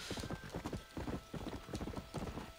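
A horse in Red Dead Redemption trots along with quick, rhythmic clip-clop hoofbeats in steady clusters, fairly close and moderately quiet, with no voices over them.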